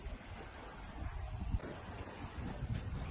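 Wind gusts across the microphone at a beach, with a low rumble of surf underneath, fairly faint and uneven, no voices.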